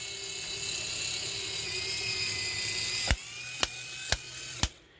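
A 1968 Cadillac DeVille power antenna motor whirs steadily as the mast retracts on a bench, then stops, followed by four sharp clicks of the clutch and mechanism spaced about half a second apart.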